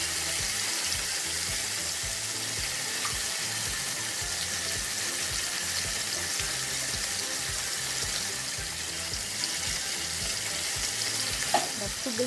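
Potatoes frying over a medium flame with turmeric and salt, stirred in the pan: a continuous close sizzle throughout, with scraping stirring movements and a sharp clink near the end.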